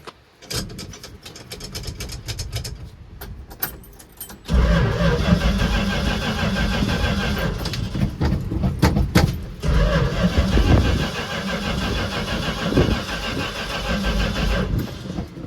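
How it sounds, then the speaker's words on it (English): First-generation Cummins diesel in a Dodge truck cranking over with a rapid ticking starter, then catching and running as a loud, rough, steady diesel rumble that holds for the rest of the stretch. "will she crank over?"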